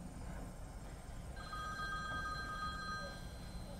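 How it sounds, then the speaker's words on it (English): A telephone ringing in the TV comedy Letterkenny, a thin electronic ring repeating a couple of times at moderate distance over a steady background hiss. "Well, pick up your fucking phone."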